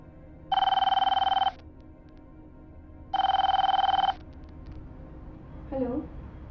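An outgoing phone call rings back with two long, loud electronic ring bursts separated by a pause, and a brief voice comes in near the end.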